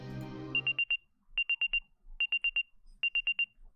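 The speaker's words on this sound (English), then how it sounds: "Oh, that's my watch alarm." A digital watch alarm in the video game Root Double beeps in four rapid bursts of four short, high electronic chirps, evenly spaced and clear against near silence, after a brief moment of voiced sound at the start.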